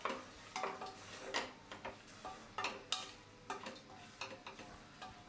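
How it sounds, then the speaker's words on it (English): Mushrooms that have shrunk down are stirred with pink Himalayan salt in a pressure cooker pot, giving a steady series of soft scraping strokes with light sizzling beneath, moderately close and fairly quiet. "I'm adding in pink Himalayan salt as needed and give it a stir"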